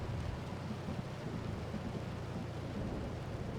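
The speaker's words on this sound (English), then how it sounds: "Famous Saskatchewan rainfall." Torrential Saskatchewan rainfall in the Outbrk video game: a constant heavy rain hiss with low rumbling, like wind or distant thunder, running steadily throughout at moderate volume.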